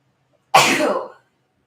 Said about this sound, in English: What is up with all the sneezing?